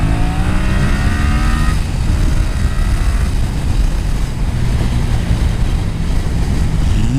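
A 2020 Yamaha Tracer 700 motorcycle accelerating in second gear, its engine note climbing steadily before easing off. Heavy, constant wind rush then takes over and masks the engine.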